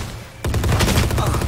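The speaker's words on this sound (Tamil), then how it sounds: "அந்த கன் அடிக்கும் போது தான்டா அடி மரணமா விழுகுது" Rapid bursts of automatic gunfire in the tactical shooter game Valorant, loud and close, starting abruptly after a quiet moment and continuing as a dense rattling volley.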